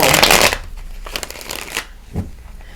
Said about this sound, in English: I'm going to shuffle more